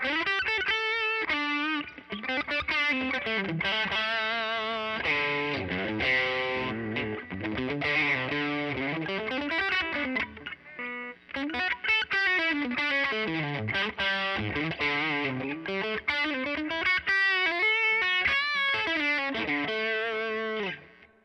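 A Fender electric guitar with a ceramic pickup plays a continuous lead line through a distortion lead circuit, with sustained bent notes and dense chords, loud and close, with a short break near the middle.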